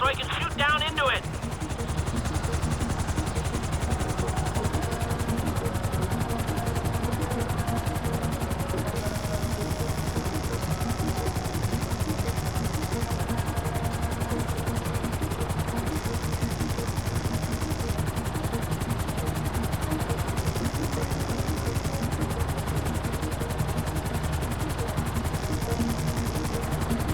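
Helicopter rotor drone runs steadily throughout in Grand Theft Auto V, with a brief burst of gunfire near the start and a voice speaking over the continuous aircraft noise.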